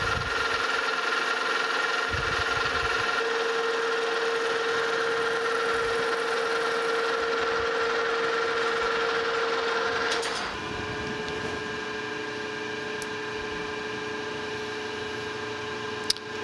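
Steady machine hum of a metal lathe taking a light cutting pass on a bronze bushing, a constant tonal drone with a faint high whine that drops in level near the end as the cut finishes.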